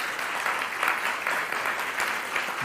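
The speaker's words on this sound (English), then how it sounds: "Big, big round of applause." A live audience claps steadily at the close of a talk, a dense, even wash of applause with no voices over it.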